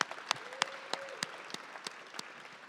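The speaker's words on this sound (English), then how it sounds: "Can we give another round of applause for our Youth Council reps?" A sparse audience applauds its Youth Council representatives at a public agency event, distinct individual claps standing out over a soft, distant wash of clapping, steady and moderately faint.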